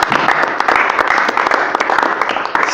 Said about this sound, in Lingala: est-ce que nous pouvons acclamer pour Dieu